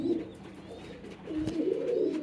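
Pigeons coo close by in low, throaty rolling calls, repeating steadily with no talking.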